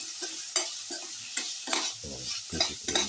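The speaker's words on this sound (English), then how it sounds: "thoroughly mix, keep on stirring and mixing" A garlic, egg and tomato mixture is stirred steadily in a hot pan, with a constant bright sizzle and regular close scrapes and taps of the spoon against the pan.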